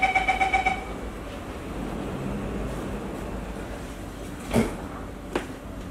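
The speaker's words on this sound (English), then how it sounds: "Doors are closing." On a Singapore MRT train between Admiralty and Sembawang, a quick run of electronic door-warning beeps sounds over the steady rumble of the carriage, followed a few seconds later by a dull thud as the doors shut.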